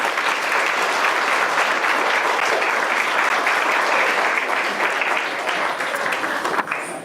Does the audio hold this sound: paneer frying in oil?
no